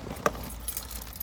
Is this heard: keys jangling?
yes